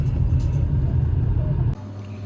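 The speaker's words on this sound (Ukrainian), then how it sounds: "Ой, їду за Юрою" A car drives along with a steady, low engine and road rumble close by, which drops abruptly near the end to a quieter idle hum.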